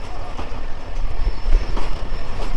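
A local train pulls away from Kakina railway station in Lalmonirhat, a loud steady rumble with wheel clatter and a faint high squeal, heard from on board.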